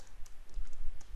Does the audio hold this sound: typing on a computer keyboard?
yes